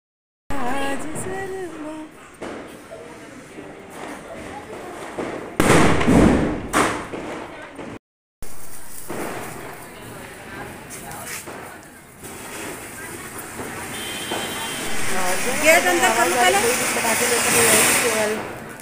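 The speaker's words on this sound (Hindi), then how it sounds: "अब चलिए चलते हैं बाहर, जरा देखते हैं पटाखों की धूम।" Diwali firecrackers going off outdoors: a burst of loud thuds and crackling around the middle, with hissing and scattered pops before and after, and voices in the background.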